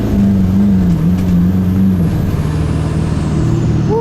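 A 6.7 diesel street truck does a four-wheel drive burnout, its engine droning loud and close with a strained, wavering roar and a faint rising whine near the end.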